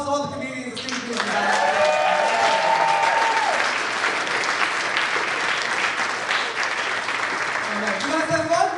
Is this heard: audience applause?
yes